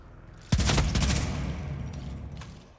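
A burst of gunfire in the Hitman: World of Assassination video game, a sharp loud volley of rapid close shots that decays into a trailing echo, with one fainter shot following.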